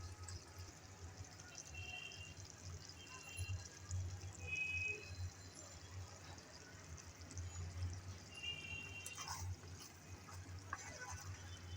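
Hog plum pickle boils in a pan with a faint, steady bubbling and low simmering hiss that carries on evenly throughout, with no one speaking.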